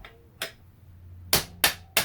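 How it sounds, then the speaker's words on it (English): A hammer pounds a stuck swing arm pivot bolt out of a 2015–2025 KTM 450 SX-F dirt bike: four sharp, close metallic blows, a single strike followed after a pause by three quick ones, with no talking. "So, all right, let me grab a hammer."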